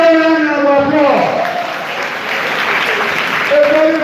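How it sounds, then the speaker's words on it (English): An audience at a primary school quiz competition breaks into a round of applause, while a voice calls out over the clapping at the start and again at the end. "Give me a round of applause."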